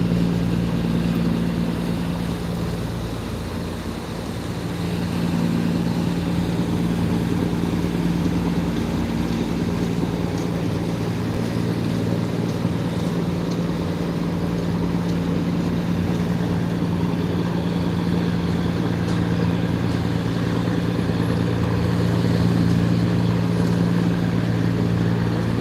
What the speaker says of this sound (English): And then we got another high-speed boat here, which you're gonna see right now.